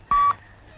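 A single steady telephone dialing tone beeps for a moment, clear and close, then cuts off to a quiet room hum.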